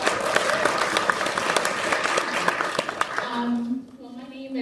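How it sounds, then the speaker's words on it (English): Student forum audience claps for board of directors nominees, dense sharp applause that fades out after a few seconds as a speaker begins talking. "So I'd like to give a round of applause to everybody running for BOD."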